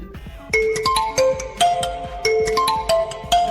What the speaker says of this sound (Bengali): দেখো এখানে রিংটনটি সেট হয়ে গেছে